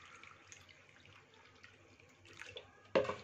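Water being poured into besan (gram flour) batter for kadhi in a home kitchen: a soft, steady trickle that ends in a sudden louder splash, with no talking.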